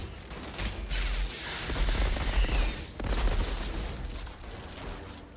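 Rapid bursts of gunfire in the video game Outriders, dense crackling volleys in three loud waves with brief dips between, no voices.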